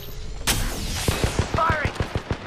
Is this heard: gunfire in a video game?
yes